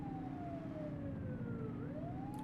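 A police car siren wails in the video game The Precinct, a steady rising-and-falling tone heard at moderate distance over a constant low rumble of traffic and engine noise, with no talk.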